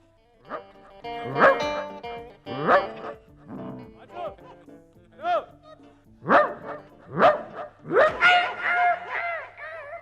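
A dog barks and yips in a series of short, loud, close calls at an outdoor comedy stage skit, with voices mixed in among the barks.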